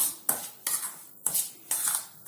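A spoon mixes semolina dhokla batter with yogurt in a bowl, giving about five rhythmic, close scraping strokes with short pauses between them.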